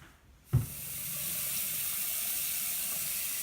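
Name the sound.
water draining through a new sink pop-up assembly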